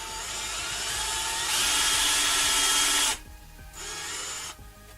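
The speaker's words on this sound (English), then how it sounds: "It's a heavy duty drill by comparison to a cheap model" A heavy-duty Ryobi cordless drill runs at full speed, a steady high whine that steps up louder midway, then cuts off and briefly spins up again before stopping.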